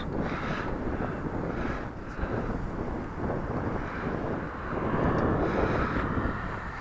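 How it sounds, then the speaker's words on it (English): Steady wind buffeting and roaring across the microphone outdoors, constant and fairly loud, with a faint drone of a foam board model airplane's motor underneath. "It's windy."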